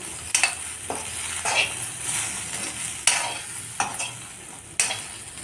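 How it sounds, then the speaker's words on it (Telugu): Dried red chillies and green chillies frying in a pan for coconut chutney, a steady sizzle broken by repeated sharp scrapes of a spoon stirring them, close and fairly loud, with no talking. "చూడండి చక్కగా ఇలా వేయించుకోవాలి ఎండిమిరపకాయ కలర్ మారుతుంది అలాగే పచ్చిమిర్చి కూడా మగ్గిపోతుంది"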